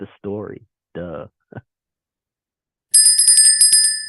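Trading software alert bell rings after a man's short spoken phrases, a bright rapid run of metallic ding pulses lasting about a second at the end, clear and close with no talk over it.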